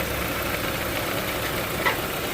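A 2014 Jeep Compass engine idles steadily and evenly throughout while air is bled from its cooling system, a constant close rumble with no revving.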